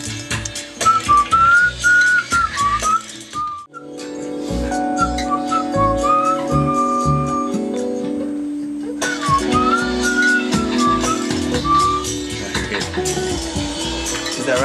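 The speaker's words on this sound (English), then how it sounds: "I couldn't add up if I'm not whistling." Someone whistles a wandering melody up close, the tune starting, pausing, then resuming over a backing rhythm.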